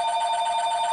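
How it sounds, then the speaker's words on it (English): A telephone rings indoors with a steady electronic trill, fast rhythmic pulses at an even, fairly loud level through the whole moment, close by, with no talking over it. "excuse the phone"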